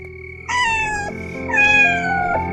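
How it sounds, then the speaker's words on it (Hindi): A cat lets out two loud, drawn-out screeching meows, the second rising and then sliding down, heard close and alone as a horror story sound effect. "बाहर किसी बिल्ली की चीख जैसी आवाज आई"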